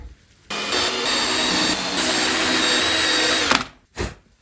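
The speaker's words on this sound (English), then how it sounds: "Deburring all of the holes is necessary, as you don't want to crack the new lacquer" A tool deburring the tuner holes of a guitar headstock whirs loudly and steadily for about three seconds, then cuts off, followed by a short final burst.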